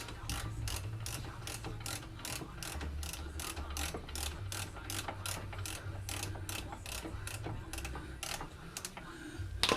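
A hand ratchet clicks rapidly in steady bursts while backing lug nuts off a brake disc on a 2005 GM vehicle during a 4T65-E transmission replacement. Close and continuous, with no talk.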